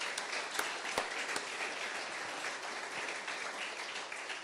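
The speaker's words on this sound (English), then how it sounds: "I want to give all of them a round of applause as well" Steady applause from an audience at a Lethbridge homelessness-support announcement, moderately quiet and even throughout with a few crisp individual claps standing out near the beginning.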